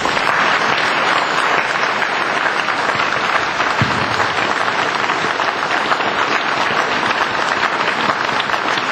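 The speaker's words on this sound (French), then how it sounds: "Je voudrais, mes chers amis, que nous fassions une ovation au maire de Draguignan." Sustained, loud ovation for the mayor of Draguignan at a French municipal campaign list presentation, dense clapping from a large crowd filling the room evenly throughout.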